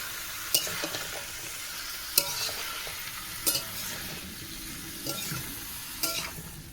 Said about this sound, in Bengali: দিয়ে হালকা নাড়াচাড়া দেবো ভালো করে, সমস্ত জায়গায় সব মশলার সাথে ইঁচড়গুলোকে মিশিয়ে নেব।